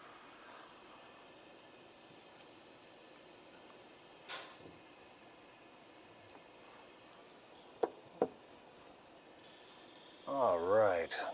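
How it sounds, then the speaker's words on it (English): An airbrush being cleaned out sprays air in a steady, faint hiss, broken by a couple of sharp clicks, with a brief voice near the end. "cleaning out that airbrush"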